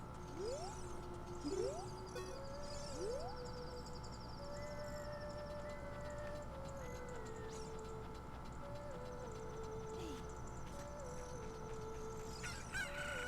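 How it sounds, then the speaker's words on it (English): A chicken in The Legend of Zelda: Ocarina of Time video game sounds rising crowing and clucking calls several times in quick succession, followed by steady chiptune-like game tones. The level stays faint and even throughout, with no speech. "Look, a chicken hatched from the egg you're incubating."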